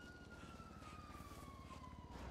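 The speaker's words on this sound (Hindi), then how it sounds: "यहाँ पे फिर मुझे सायरन सुनने लगा।" A police siren wails in GTA 5, a faint, slowly falling tone over a low rumbling background.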